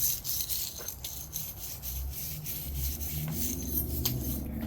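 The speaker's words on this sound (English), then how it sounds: "I'm just scrubbing it, getting all the surface rust that's been sitting in there" A small wire brush scrubs surface rust off a snowblower carburetor in rapid, continuous rasping strokes, close and fairly loud, with a steady scratchy texture throughout.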